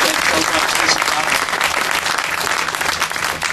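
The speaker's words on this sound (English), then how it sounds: "Give yourself a round of applause for that." Audience applause at a talk in Tullahoma, a dense steady wash of many hands clapping at full strength and close by throughout, with no break and no voice over it.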